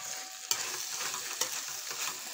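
Masala bhindi (okra) with chili powder and salt frying and being stirred in a pan: a steady soft sizzle with a couple of sharp utensil scrapes, quiet and close, no voices.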